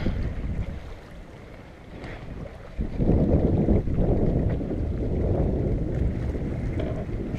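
Steady wind rushing past the microphone aboard a sailboat underway, low and broad with water wash beneath, rising louder about a third of the way in and holding strong and close to the end.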